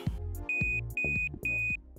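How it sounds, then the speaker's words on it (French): A kitchen cooker timer sounds three short, clear, high beeps in a steady rhythm over a low musical background. "le petit bip nous a signalé que les 5 minutes étaient terminées"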